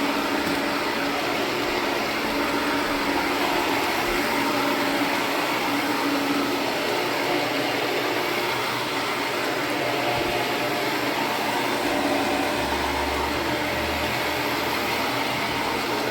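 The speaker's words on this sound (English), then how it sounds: "this machine is around 40-45 pounds. Counter-rotating brush. 2 brushes going opposite directions of each other's" A roughly 40–45 pound carpet cleaning machine with two counter-rotating brushes running on heavily soiled, sticky carpet, giving a loud, steady, close motor whine and brushing roar with no pauses.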